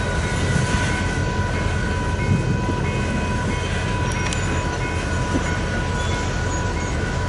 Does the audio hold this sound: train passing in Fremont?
yes